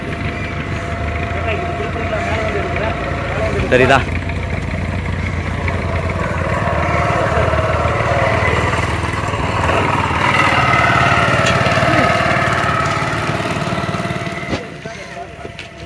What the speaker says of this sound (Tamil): கட்டு மரத்தில் இன்ஜின் வச்சு எடுத்துகிட்டு போகிறாங்க பாருங்கள்